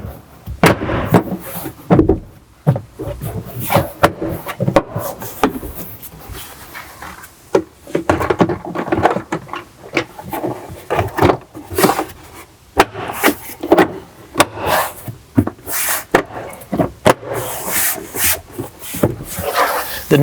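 A Tesla Model Y trim panel is worked around rubber stops and pressed home, giving a run of close plastic clicks, snaps and rubbing knocks in an irregular rhythm.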